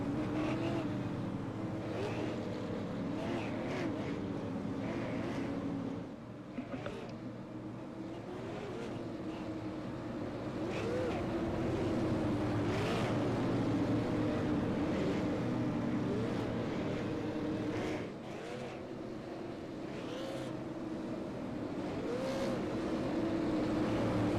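SLM late model race trucks circling 5 Flags Speedway during the Snowball Derby weekend, a continuous engine drone rising and falling as the field passes, heard from a distance with no voices.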